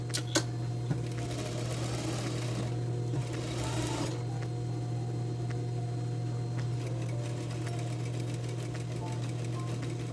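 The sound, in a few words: sewing machine stitching a double seam on jeans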